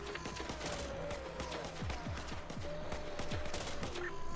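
Rapid bursts of gunfire from several guns in the zombie-survival game Infection Free Zone, steady crackling shots with a few sharper near reports over a busy background, no talking.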